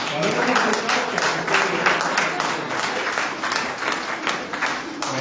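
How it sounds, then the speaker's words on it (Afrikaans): A church congregation claps and applauds together, a dense, steady wash of hands that stays loud for several seconds with no break. "Nou, jy kom ons gee vir 'n lekker ander klap."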